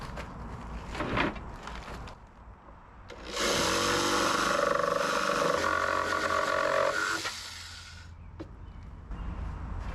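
An old Craftsman scroll saw from Sears runs loud and steady for about four seconds, a buzzing broadband cut that starts and stops abruptly between quieter workshop knocks and handling noises.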